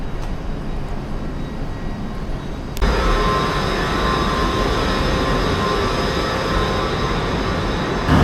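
A London Underground Piccadilly line train at Terminal 5 gives a steady rumbling drone that turns louder and fuller a few seconds in, then holds as a close continuous roar.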